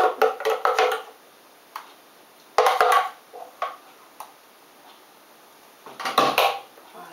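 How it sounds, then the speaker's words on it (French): A spoon clinks and scrapes in a bowl while sprouted pink lentils are mixed with a creamy curry sauce for a raw salad, with bursts of clattering at the start, in the middle and at the end, separated by quiet pauses. "je mélange bien soigneusement de manière à bien enrober toutes les lentilles surtout"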